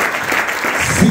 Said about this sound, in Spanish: dele ofrenda de palmas